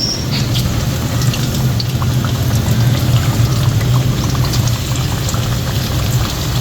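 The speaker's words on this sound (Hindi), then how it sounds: "अब हम ऑयल गर्म करेंगे और इसे सही तरह से फ्राई करेंगे।" Oil heating and sizzling in a pan while frying aloo tikki, a continuous loud, dense crackle and bubbling hiss with scattered pops, steady throughout and close by.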